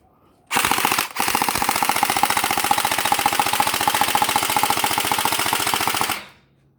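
An Alpha King AK105 gel blaster fires on full auto in one long, steady burst of rapid mechanical clatter, close and loud. After a brief hitch near the start it runs unbroken for about five seconds, then winds down.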